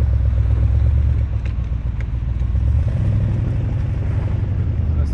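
Low, steady engine rumble of a 1963 Shelby Cobra cruising slowly, with light clatter and a brief dip in intensity midway, heard from the cabin.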